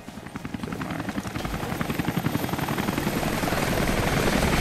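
A helicopter in the video game Rise of the Tomb Raider, its rotor thumping in a fast, even pulse that grows steadily louder as it approaches, with nothing else heard over it.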